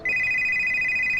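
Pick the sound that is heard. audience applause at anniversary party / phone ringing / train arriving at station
phone ringing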